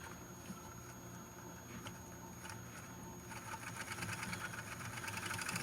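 An Athearn 50th Anniversary model train locomotive runs on a test setup, its small motor whirring steadily with wheels spinning, the hum growing louder and brighter toward the end as the power is raised.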